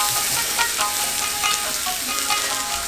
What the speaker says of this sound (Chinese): 鸡肉伫铁盘顶面煎甲皮皮叫